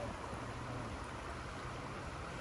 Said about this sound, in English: we get a little riffle where the white is, and that's what you can hear so well